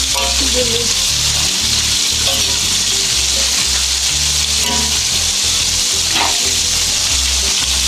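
Chop suey fries loudly in a hot pan, with steady dense sizzling and intermittent stirring scrapes throughout.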